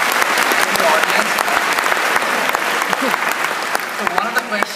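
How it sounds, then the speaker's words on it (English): Steady, dense applause from a conference audience at a TiEcon keynote in Silicon Valley, loud and continuous throughout, with many hands clapping at once. "Let's give him a big round of applause with that."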